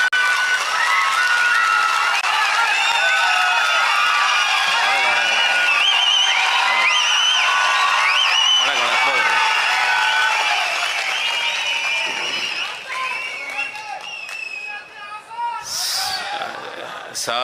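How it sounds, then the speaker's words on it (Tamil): Thousands of people at a large Tamil political gathering rise to their feet, applauding and cheering together, a dense, sustained roar of crowd noise that fills the whole stretch and thins slightly near the end. "ஐயா பே மணியரசன் அவர்கள் மேடை ஏறிய போது அங்கே கூடியிருந்த பல்லாயிரக்கணக்கான மக்களும் ஒன்று திரண்டு எழுந்து நின்று ஐயா அவர்களுக்கு கைத்தட்டி மரியாதை செய்தது மிகப்பெரிய கவனத்தை ஈர்த்தது."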